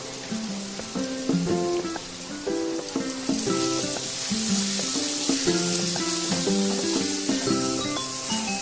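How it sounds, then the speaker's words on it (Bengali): Chili powder and spices fry in a pan for a Bombay duck fish curry, giving a continuous crackling sizzle like light rain under a melodic music track. "খুব ভালো করে মশলাটা কষিয়ে নিতে হবে আগে"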